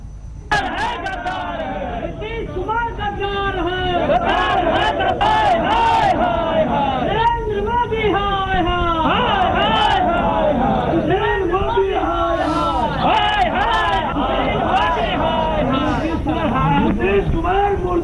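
A large crowd chants political slogans in loud, rhythmic unison, repeated shouts rising over a dense babble of voices, close and sustained throughout.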